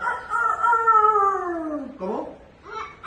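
A voice imitates a rooster crowing, one long drawn-out call that falls in pitch, followed by a couple of shorter vocal bursts.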